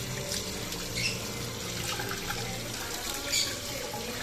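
Water runs continuously during washing, a soft, steady splashing stream close by with faint clinks. It is fairly quiet and carries on without pause.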